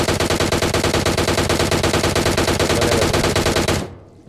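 Sustained automatic gunfire in the BGMI battle royale game: a long, loud, rapid burst of evenly spaced shots that runs unbroken for nearly four seconds, then cuts off abruptly into near silence.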